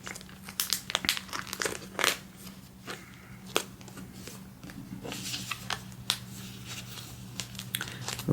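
Pokémon cards slid into plastic binder sleeves, giving soft crinkles, rustles and small clicks that come close by and at an uneven pace over a low steady hum, with no voices.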